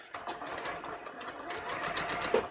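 A sewing machine stitches close along the folded edge of a shirt collar, working in short bursts of quick, soft needle ticking and motor whir, fairly quiet and near.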